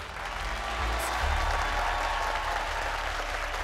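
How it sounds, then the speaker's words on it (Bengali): A studio audience gives sustained applause on a TV show set, a steady, even roar of many hands clapping throughout with no talking over it. "আপনাদের হাততালি এইভাবেই যেন বাঁচতে থাকে"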